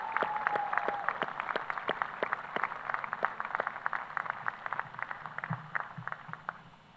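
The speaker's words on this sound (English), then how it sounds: "applause" Scattered applause at a university commencement honoring retiring staff, with distinct individual claps standing out over a thinner crowd, fairly faint and gradually tapering off.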